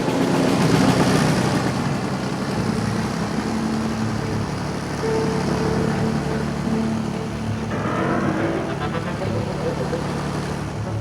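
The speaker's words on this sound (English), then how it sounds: "Meanwhile, the Hercules set off down the old runway." Hercules aircraft rolling down an old runway, a steady droning engine roar with a low rumbling hum throughout, fairly constant in loudness, with a faint voice over it.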